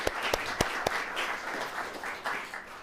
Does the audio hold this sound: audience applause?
yes